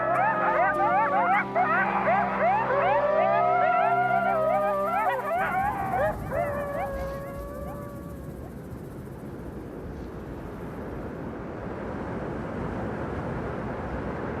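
A group of coyotes in Yellowstone howl together in overlapping, wavering yips and rising howls over a low steady hum, fading after several seconds into quieter background noise.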